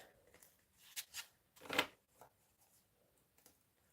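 A new deck of large, very thick, rigid cards being dropped and shuffled, giving several soft riffling bursts and slaps at close range, with one louder flurry in the middle and a few quieter taps after.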